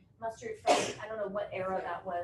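A single sharp sneeze bursts out in the middle of a room, close and loud, with people talking before and after it.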